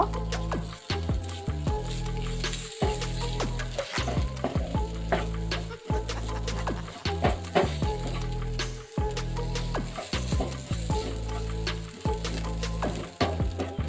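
Okra stir-fry sizzles steadily in a pan while a utensil stirs and scrapes it, sending regular sharp knocks and scrapes over the constant frying hiss.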